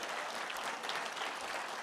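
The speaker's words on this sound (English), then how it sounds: "Please give them a big round of applause." Guests at a 50th anniversary celebration dinner give the wait staff a round of applause, heard as a steady, full burst of clapping from a crowd, with no talking over it.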